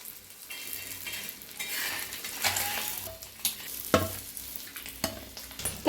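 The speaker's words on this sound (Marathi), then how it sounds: "दुसरे मी अंडे फ्राय करायला लागून घेतले बघा" Eggs frying in a pan, a steady sizzle and crackle with occasional scrapes and taps of a utensil, close and fairly loud with no talk.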